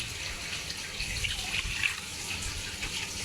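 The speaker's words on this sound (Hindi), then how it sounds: "अब मैं इसमें थोड़ा सा पानी डाल लूँगा" Water pours steadily into a cooking pot in a continuous splashing stream, close up, with no voices.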